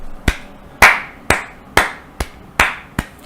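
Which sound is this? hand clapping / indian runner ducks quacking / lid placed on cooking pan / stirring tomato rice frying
hand clapping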